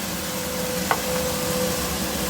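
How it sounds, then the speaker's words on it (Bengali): Potatoes and julienned onions frying in a pan give a steady, quiet sizzle throughout, with one brief clink partway through. "আলু পেঁয়াজই আজকে ভাজবো"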